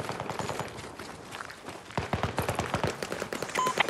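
Rapid bursts of automatic gunfire crackle through a Battlefield 2042 firefight, growing denser and louder in the second half as sharp shots overlap into a near-continuous volley.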